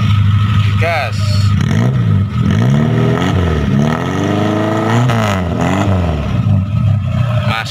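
A 1997 Suzuki Carry (Carreta) engine revs repeatedly through a loud aftermarket GS Racing exhaust, rising and falling in pitch, with a person talking over it.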